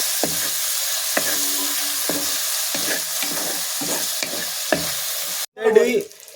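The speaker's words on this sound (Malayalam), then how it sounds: "അരിഞ്ഞു വെച്ചേക്കണ ഇഞ്ചി ഇട്ട് കൊടുക്കാട്ടോ" Chopped ginger fries in a pan for a Kerala-style curry, with continuous sizzling broken by regular scraping strokes of a spoon stirring, then a louder burst of spitting sizzle near the end.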